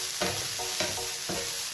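Chopped onion sautéing in a pan sizzles steadily while a utensil stirs it in three distinct scraping, clattering strokes spaced under a second apart, close and moderately loud with no talking.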